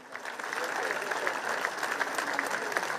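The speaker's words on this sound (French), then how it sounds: "on peut les applaudir bien fort" Crowd applause fills an outdoor bullring at Le Grau-du-Roi during a Camargue bull event featuring the Lautier herd, a dense, steady clapping that holds at full strength for the whole stretch.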